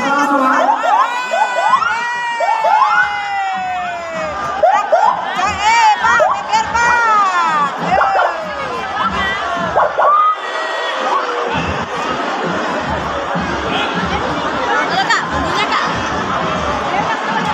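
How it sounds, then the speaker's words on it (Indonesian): A crowd at the Surabaya Vaganza parade cheers, whoops and shouts loudly, with children's high voices and clapping mixed with chatter, rising in excited bursts before settling into a steady roar. "mari kita berikan tepuk tangan dan sambutan yang meriah untuk rombongan pertama"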